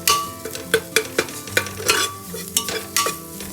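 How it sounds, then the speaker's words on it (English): Ginger with a ground paste of black pepper and cilantro stems being sautéed in a pan, sizzling under repeated sharp scrapes and stirs of a utensil, close and fairly loud, no talk. "To this, add the ground paste of black pepper and cilantro stems and saute."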